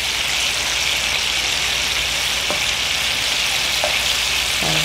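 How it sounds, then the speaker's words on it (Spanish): Tomatillos and poblano chiles fry steadily in a pan, giving a dense, even sizzle that holds at a constant level throughout, with a few faint utensil clicks near the end and no voices. "sofreír como de unos 12 a 15 minutos para que queden todos bien suavecitos y bien cocidos"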